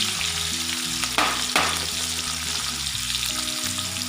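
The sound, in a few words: onion frying in a pan after cumin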